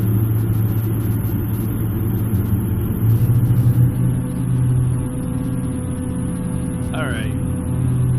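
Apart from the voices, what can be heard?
Cessna F406 propeller engine in flight simulator video game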